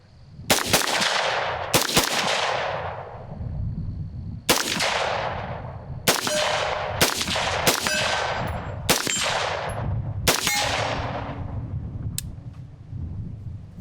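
A scout-configured AR rifle fires about nine sharp shots in succession, each a loud crack with a ringing tail, spaced roughly a second apart with short pauses, followed by one faint metallic ping near the end.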